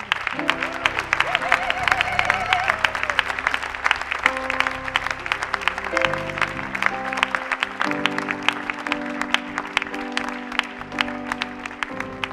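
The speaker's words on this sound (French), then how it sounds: "On acclame." A church congregation applauds and cheers for pastor Jacques Mbalanda, rhythmic clapping pulsing steadily throughout with sustained music underneath and voices rising in the crowd.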